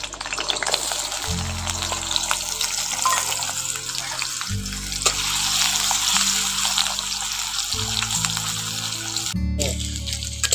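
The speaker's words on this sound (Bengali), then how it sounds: "এবার তেলটা গরম হয়ে গেছে, আলুটা দিয়ে দিচ্ছি।" Potatoes frying in hot oil, a steady loud crackling sizzle that runs through the whole stretch, with brief clanks of a pan or utensil and no voices.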